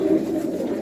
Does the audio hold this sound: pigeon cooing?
yes